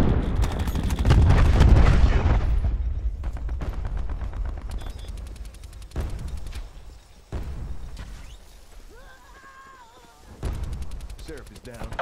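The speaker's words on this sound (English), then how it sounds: "Throwing cluster grenade." Call of Duty: Black Ops 4 combat with cluster grenade explosions and gunfire: a heavy opening burst, then sharp shots and blasts at irregular intervals. Quieter gaps fall between them, with a voice talking and electronic tones in the background.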